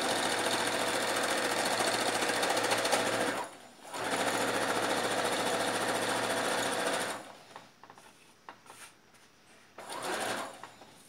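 Sewing machine running top-pressure stitching along a shirt yoke on a men's shirt, in three sustained bursts with brief pauses between, loud and close, then fainter intermittent stitching near the end.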